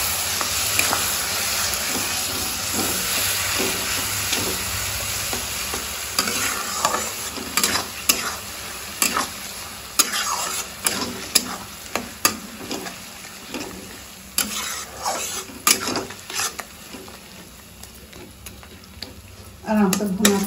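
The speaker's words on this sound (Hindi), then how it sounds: "ये जीरा मिर्च, गरम मसाला, लहसुन और प्याज थोड़ा सा इसमें एक साथ भुनाए देंगे" Cumin, chili, garam masala, garlic and onion sizzle in a pan, with the steady hiss of frying broken by scraping and stirring sounds, close up, as someone speaks now and then.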